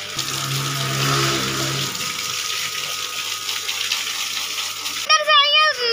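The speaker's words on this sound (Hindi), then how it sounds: "तो सबके ऊपर पानी मार रही है।" Water from a tap or hose is splashed about during household cleaning, a hissing spray under a child's and adults' chatter, ending with a burst of high squeals.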